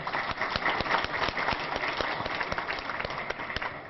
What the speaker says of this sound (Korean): 감사의 박수를 부탁드립니다